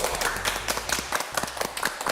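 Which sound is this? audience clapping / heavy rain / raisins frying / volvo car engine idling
audience clapping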